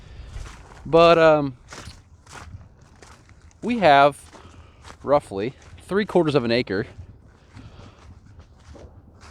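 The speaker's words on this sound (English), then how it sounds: "you can maybe hear the water kind of squishing under my boots right now" Boots squelch through three to four inches of standing water on a flooded field, soft repeated footfalls beneath someone talking throughout.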